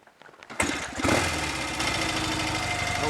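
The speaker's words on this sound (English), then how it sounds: "I'll switch it off, switch back on, and we'll try a hot start." A warm Royal Enfield Interceptor 750 Series 2 motorcycle engine is started: a brief starter whirr, then the twin catches abruptly and revs up before settling into a loud, steady, close idle.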